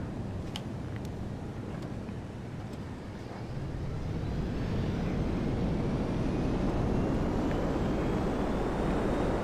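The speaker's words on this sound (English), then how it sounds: "the Hydra is a VTOL jet" The Hydra VTOL jet in a video game gives off a broad, rising rush of jet roar that swells louder after a few seconds, with faint clicks early on.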